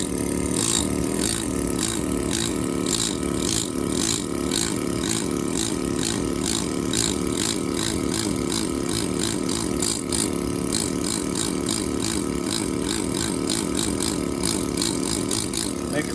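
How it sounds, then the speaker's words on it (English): A chisel bounces on a stone surface while a drilled hole in stone is repaired, producing a continuous rapid metallic tapping with a fast, even rhythm up close for the whole stretch. "You can sort of just bounce your chisel."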